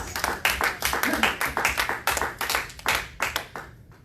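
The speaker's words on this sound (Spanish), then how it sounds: "Dale un aplauso a Jesús ahí donde estás." Congregation at a church prayer service clapping for Jesus, a loose run of hand claps rising and falling over about four seconds, with voices and singing carrying underneath.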